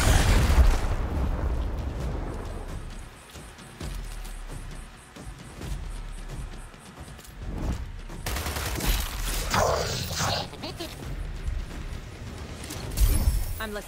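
A frag grenade goes off in Gears Tactics amid a firefight, a loud boom landing near the end after a stretch of scattered gunfire, with combat voices and game effects throughout.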